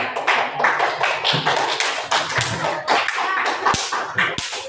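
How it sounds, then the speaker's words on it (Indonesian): A classroom of students claps for a classmate named Sofi, a dense patter of many close hands that runs unbroken for several seconds with a few sharper slaps near the end. "Tepuk tangan dulu untuk Sofi"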